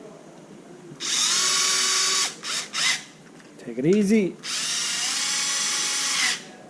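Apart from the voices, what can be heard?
power drill driving bolts on an RC car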